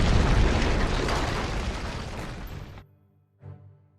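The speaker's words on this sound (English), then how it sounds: "The cannon caused a massive avalanche of snow to fall on the Huns." Cartoon cannon blast setting off a snow avalanche, a loud booming rumble that rolls on for nearly three seconds, cuts off abruptly, then a short softer thud follows in the quiet.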